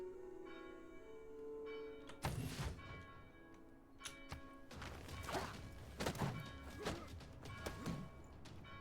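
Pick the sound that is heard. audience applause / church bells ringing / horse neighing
church bells ringing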